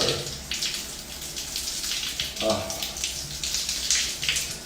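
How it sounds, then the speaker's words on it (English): A shower runs steadily in a bathroom, giving a continuous close hiss of spraying and splashing water with small fluctuations throughout. "This is shower time with Solar."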